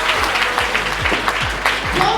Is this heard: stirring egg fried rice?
no